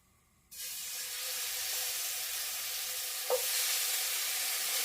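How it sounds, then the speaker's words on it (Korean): Pork drops into hot oil in a worn nonstick pan and sets off a sudden loud, steady sizzle that holds without a break, with one small clink partway through and no voices. "기름이 적당히 달궈졌으면 고기를 넣을게요."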